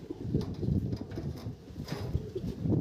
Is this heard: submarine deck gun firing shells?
no